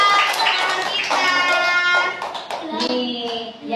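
Children in a classroom clap their hands for a classmate's collage work, rapid clapping mixed with high young voices and chatter, tapering off toward the end.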